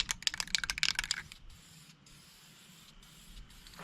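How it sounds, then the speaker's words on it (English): A Duplicolor spray can with a flat-spray nozzle sprays primer sealer outdoors in a series of quick, close hissing bursts, then falls to a faint background hush. "So it shoots a flat spray instead of a round spray like most spray cans do."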